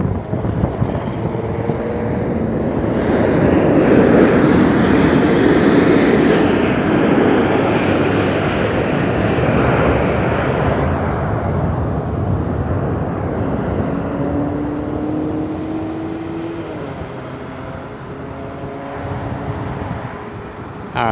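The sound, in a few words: aircraft on the runway at Las Vegas airport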